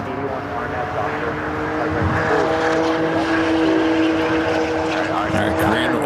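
A Korean Air airliner taxis at LAX, its engines making a steady mid-distance whine with tonal hum and a low rumble, while a voice talks over it.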